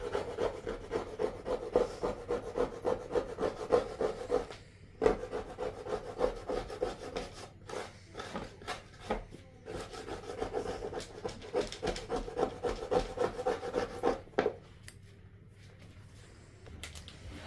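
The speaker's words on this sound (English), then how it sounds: "I paused it so I could finish sanding it or scraping it" Rhythmic scraping strokes of a scraper removing old glue from a wooden board, repeated steadily with a few short pauses, close and fairly loud.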